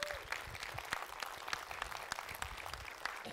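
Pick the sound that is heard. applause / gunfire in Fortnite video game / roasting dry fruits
applause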